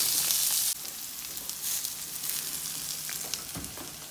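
Vegetables sizzle loudly and steadily in a hot pan, with stirring scrapes and shuffles close by and no talking.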